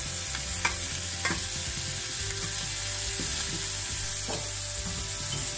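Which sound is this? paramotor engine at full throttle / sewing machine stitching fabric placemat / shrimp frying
shrimp frying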